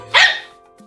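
A single sharp dog bark, loud and close, fading quickly into quiet.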